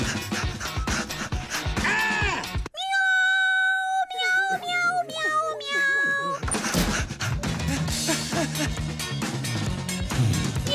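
A voice sings a string of drawn-out, wavering meows imitating a cat, set between louder stretches of busy music and noise.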